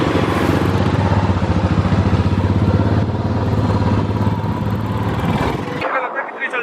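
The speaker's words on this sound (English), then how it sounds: "and आप देख सकते हैं बाइक स्टार्ट हो चुकी है" Royal Enfield Classic 350 BS6 single-cylinder motorcycle idling steadily just after starting, a loud continuous thumping engine note running for about six seconds, then cutting away to quieter sound at the end.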